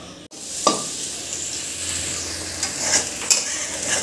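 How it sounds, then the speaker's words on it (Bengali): Potato fry sizzles in a pan while being stirred, a continuous close crackle broken by a sharp clunk early on and a few utensil scrapes and clinks throughout. "আলু ভাজাভাজির পর্ব এখন চলছে।"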